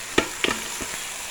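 Crab pieces going into a hot pan of curry with garlic, giving a couple of sharp clattering splashes, then a soft, steady sizzle that fades under light stirring.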